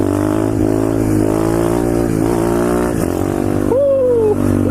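Pit bike engine held at high revs during a third gear wheelie, a loud steady buzzing drone that wavers in pitch, then a brief rising and falling rev near the end.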